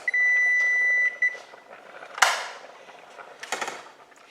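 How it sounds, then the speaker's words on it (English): A kitchen timer's steady electronic beep sounds for about a second, followed by a sharp click and some clattering handling noises. "That's my buzzer for the orzo."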